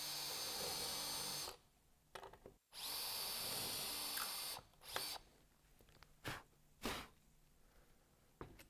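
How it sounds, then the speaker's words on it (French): An 18 V drill-driver set to speed 2 drills into a workpiece in two long, steady, close high-pitched whirring bursts, followed by scattered clicks and short handling knocks. "forer directement dans ma pièce. Retour aux vitesses 2, perçage."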